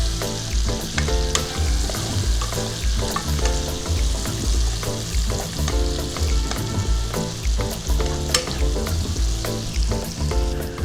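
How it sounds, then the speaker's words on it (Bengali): Onions stirred and fried until reddish for a dried Bombay duck (loitta shutki) dish, a continuous loud sizzle with repeated stirring clatter and no talking. "পেঁয়াজটা নাড়িয়ে চাড়িয়ে লাল করে ভেজে নেব।"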